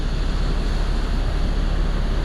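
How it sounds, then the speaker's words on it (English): Ocean waves breaking on a beach: a loud, steady roar of surf and wind that rushes without pause throughout, with no distinct single crash standing out. "every couple waves here and there, you'll notice a wave breaking, but it breaks diagonally to the beach"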